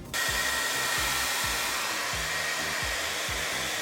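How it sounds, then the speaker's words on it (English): A hair dryer drying pigment and PVA glue on a Worbla craft wand blows with a continuous loud whooshing rush, a steady mechanical hum and rhythmic low pulsing underneath, running throughout. "if you want to speed up the process, you can use a hair dryer"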